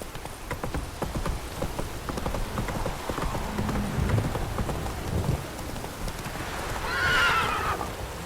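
Geralt's horse Roach whinnies and her hooves clip-clop over wet ground in steady rain, a fantasy scene with a clear neigh rising near the end.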